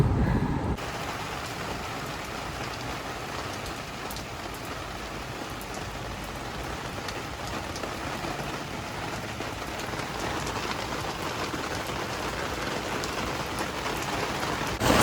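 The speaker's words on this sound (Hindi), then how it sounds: "अभी काफ़ी तेज़ बारिश हो गई है" Heavy rain pours down outdoors during a morning run, a dense, even hiss of drops hitting surfaces that stays loud and constant throughout, with no voices.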